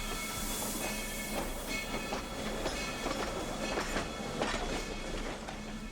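A Texas State Railroad steam locomotive train rolls steadily past with rhythmic clickety-clack of wheels on rails, hissing and metallic squeals, fairly close and continuous, no voices.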